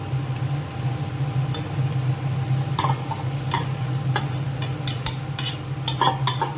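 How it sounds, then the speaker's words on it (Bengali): A pot of khichuri, with fried rice and half-cooked moong dal, is stirred with a utensil. Scattered scraping and clicking strokes come over a low steady hum, growing more frequent toward the end. "দিয়ে ভালো করে নেড়ে নেবেন"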